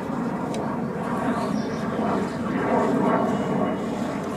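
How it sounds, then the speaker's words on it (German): Airplane passing overhead on a fine day above a garden, a steady broadband engine roar holding across the whole clip, swelling slightly near the end, with no talk. "Flugzeug."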